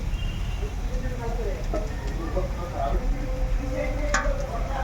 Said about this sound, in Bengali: সেই আলু সেদ্ধটা আমি এর মধ্যে মিশিয়ে দেবো